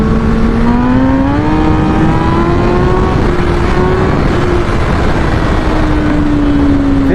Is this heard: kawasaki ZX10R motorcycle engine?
yes